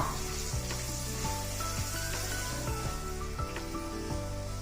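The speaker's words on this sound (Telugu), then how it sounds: "కొంచెం పసుపు వీటిని కొంచెం వేగనిద్దాం" Curry leaves and turmeric sizzle steadily in hot oil for horse gram curry (ulavacharu), a loud continuous frying hiss broken by a few soft stirring knocks.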